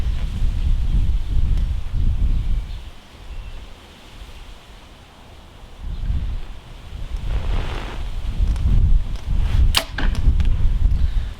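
Wind gusts rush across the microphone, and a single shot from a 2019 PSE Bowmadness Unleashed compound bow snaps sharply near the end, close and brief.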